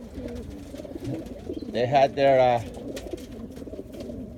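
Young racing pigeons coo in a loft, a burst of throaty cooing rising over a soft, constant flutter and murmur of birds, with someone talking nearby.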